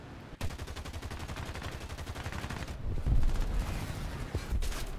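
Rapid machine-gun fire in the War Thunder air combat game rattles on in long continuous bursts, with a heavier thumping stretch partway through.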